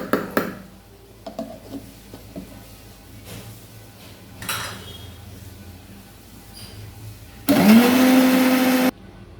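A mixer grinder whirs loudly for about a second and a half, grinding soaked poppy seeds with water for katla fish posto, rising to a steady high whine after scattered quiet kitchen clatter.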